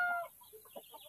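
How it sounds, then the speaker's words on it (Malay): Chickens cluck softly in a garden plantation, a few short faint clucks in quick succession after a brief louder opening note. "Tapi sebenarnya ayam yang Pak Long bawa ni dia lebih berat berbanding dengan betina-betina yang ada di dalam sana"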